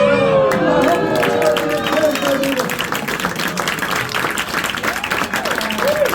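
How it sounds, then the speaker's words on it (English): Audience applause at a magic show brunch at the Magic Castle, loud close clapping and crowd noise sustained throughout, with voices and some cheering mixed in. "You're clapping for it."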